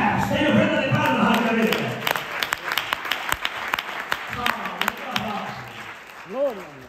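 A church congregation claps together in a dense, lively burst that thins into scattered claps, with voices calling out over it and a sung or shouted note at the end.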